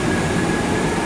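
An MRT metro train pulls out of a station in Metro Manila, a dense, steady rumble of rolling wheels and motors with a faint high whine, loud and continuous through the short stretch.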